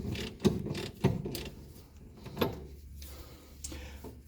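A bolt is loosened and removed from the suspension of a Mercedes W116 300SD, with a few sharp metallic clunks and ratcheting mechanical rattles close by, with no talking.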